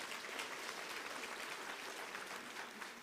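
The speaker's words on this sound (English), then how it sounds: "You can give yourself a round of applause." Graduates at a university graduation ceremony in Windhoek give sustained, even applause. The clapping comes from a large audience and sounds fairly faint and distant, a continuous wash with no voices.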